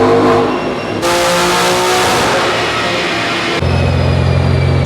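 A BMW F80 M3 engine revs hard and loud on a dyno, its pitch climbing and holding in sustained pulls, with sharp shifts between rev stages.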